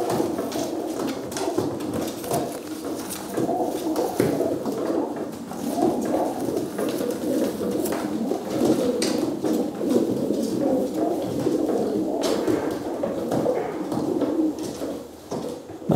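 Young racing pigeons coo steadily in a loft, a dense layered murmur of soft throaty calls filling the whole stretch at moderate, even loudness with no talk over it.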